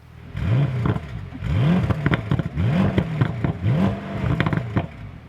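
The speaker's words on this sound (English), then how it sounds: "And here we go with the engine, a 4-liter V8 with 550 horsepower" A Bentley Continental GTC convertible's 4-liter V8 engine, rated at 550 horsepower, is revved four times in quick succession, each loud rising blip falling back with crackles and pops between, heard close.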